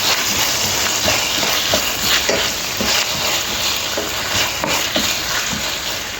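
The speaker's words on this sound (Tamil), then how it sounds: "பருப்பு போடுவோம் நல்லா வதக்குவோம்" Snake gourd and bitter gourd with lentils sautéing in a pan, a steady loud sizzle with repeated scraping stirs throughout, no talking.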